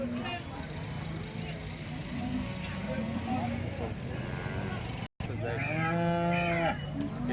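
An HF cow calf at a cattle market in Sangola gives a loud, close moo near the end over a busy background of crowd noise and engines, and people talk throughout.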